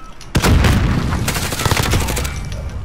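C4 explosive detonating in a video game: a sudden loud blast followed by a dense, crackling rumble of gunfire-like reports that slowly fades, close and forceful.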